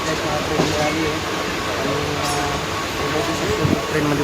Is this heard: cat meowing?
no